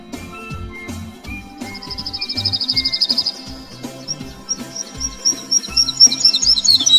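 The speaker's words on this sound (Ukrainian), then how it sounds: "У квітні прилітають жайворонки." Bright, rapid trilling birdsong rises over background music, growing fuller and more continuous toward the end, like skylarks singing.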